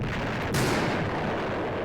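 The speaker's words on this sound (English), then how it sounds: "These mortars are deadly." Mortar artillery fire in the Panzer Campaigns wargame: a single sharp boom about halfway through, followed by a rumbling roar that lingers over steady background noise, with no talk.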